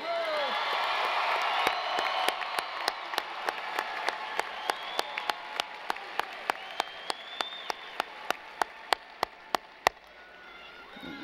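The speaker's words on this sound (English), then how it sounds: "I think you may have to give him one more round of applause." A university commencement crowd gives another round of applause for a graduate receiving a baccalaureate degree, with dense clapping, cheers and whoops that fade into a few loud isolated claps near the end.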